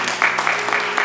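A church congregation claps at a Sunday worship service, broad bursts of applause rising and falling in several waves over a steady background hum.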